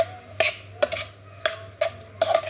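A spoon stirs vegetables together in a metal pan for a mahshi tray, giving five distinct scraping clinks spaced about half a second apart over a steady low hum.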